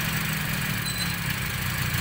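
A Toyota Vios engine idles steadily during ignition coil testing, a continuous low rumble with an even hum running throughout, close and constant with no talk.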